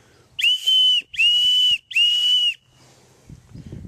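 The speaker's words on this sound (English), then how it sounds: "It's a pretty loud little whistle that you can make in just a few seconds for rescue signaling" A shrill, piercing whistle made from an aluminium can, blown in three long, steady blasts with brief gaps, loud and close, followed by faint rustling.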